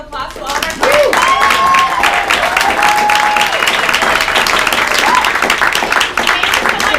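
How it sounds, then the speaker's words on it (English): A loud round of applause from the audience at an improv class show, steady dense clapping after a brief quieter lead-in, with a few whoops and cheers rising over it. "please give one last round of applause to all of our friends"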